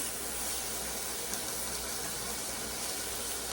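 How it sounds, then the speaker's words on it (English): Stew ingredients sizzle and saute in an Instant Pot, a steady, dense hiss running unbroken and fairly close, with no voices over it. "I'm gonna let it just saute down a little bit."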